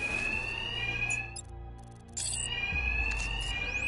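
Alarms ring in Batman: Arkham Knight, a loud continuous electronic tone blaring with a brief dip in the middle and pulsing layers returning, no voices over it.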